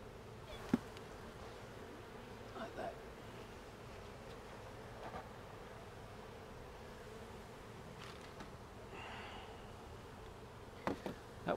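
Steady, faint hum of many bees from a rescued open-air nest crawling into a hive at its entrance, low buzzing throughout with a few soft knocks and no talking.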